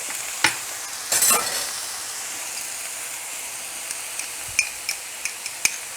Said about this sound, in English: we're going on a very high heat. Okay, and then we will do the